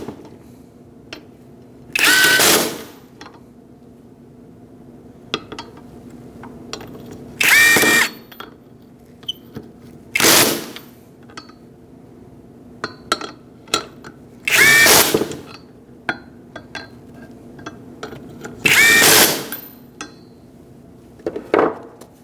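A power tool drives wheel hub bolts on a 2004-2012 Chevrolet Colorado in a crisscross order: five loud, close bursts of whirring and ratcheting, each a second or two long, separated by quiet pauses with small handling clicks.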